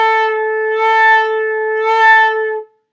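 A singer holds one sustained note, swelling in slow, broad pulses driven from the abdomen, about one throb per second, clear and alone before it stops abruptly.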